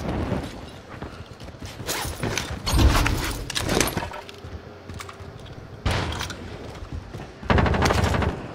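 Game gunfire in a military shooter, with bursts of rapid automatic shots and single cracks coming in uneven clusters, fairly close and loud, plus mechanical clicks and rattles between them and no talk.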